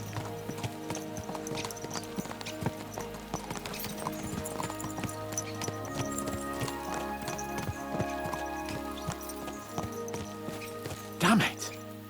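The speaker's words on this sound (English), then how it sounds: "Let's really spur these horses on, eh?" Horses' hooves clip-clop steadily at pace on a road in the medieval game Kingdom Come: Deliverance II, with occasional snorts and a whinny, while a voice talks over them throughout.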